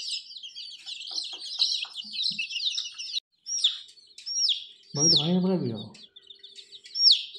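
Many chicks cheep in rapid, high-pitched peeps close by, with a hen's short clucking call breaking in partway through.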